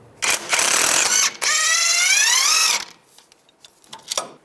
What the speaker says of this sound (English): Take a 24mm socket, take this nut off.